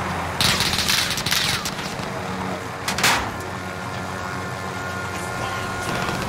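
Gunfire in a video game firefight: a few loud bursts of automatic fire near the start and a sharp blast around the three-second mark, over a steady rumbling backdrop of engine-like noise.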